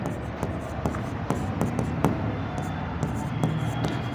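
Chalk or marker taps and scratches across a board in quick, irregular strokes, close and fairly clear over faint room noise.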